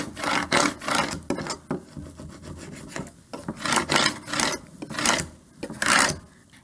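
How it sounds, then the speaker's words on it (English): A scraper tool burnishes Cricut transfer tape onto a wooden welcome-sign board, making a close series of firm, rhythmic rubbing strokes in bursts with short pauses between them, and no voices. "now I can use my scraper tool to burnish it onto the board"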